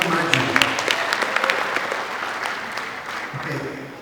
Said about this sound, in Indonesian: Setelah ini tepuk tangannya dibatasi saja ya.